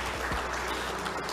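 Applause for the director at an Indonesian government outreach event on small-business data and business matching: a dense, even patter of many hands clapping, steady through a short stretch with a faint voice underneath.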